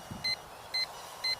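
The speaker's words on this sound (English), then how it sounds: "The buzzer on the drone is really loud." A Hubsan H122D X4 Storm drone's low-battery buzzer sounds three short, sharp electronic beeps at an even half-second rhythm, clear and fairly loud over a faint background hum.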